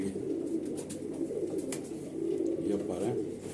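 Malwai Punjabi and Madrasi pigeons, among them a black Tatiri hen, coo in a low, steady rolling drone, with someone talking over the birds throughout.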